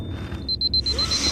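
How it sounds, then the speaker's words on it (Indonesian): An alarm sounds in the zombie film Wyrmwood (2014): a high electronic beep repeats in quick pulses, then carries on as fainter evenly spaced tones over a low rumbling background. "alarm Brock pun menyala."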